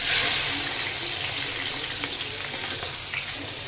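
Onions and curry leaves fry in hot oil with a close, continuous hissing sizzle, louder at first and then settling, with a few faint stirring clicks.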